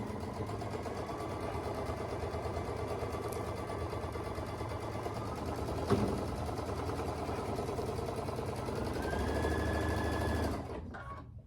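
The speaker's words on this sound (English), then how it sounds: "So I'm going to sew this seam down at 1/4 inch, taking the pins out before I get to them." A sewing machine stitches a quarter-inch quilt seam in a steady, continuous mechanical whir that runs close and even for about ten seconds, with one brief click midway, then stops.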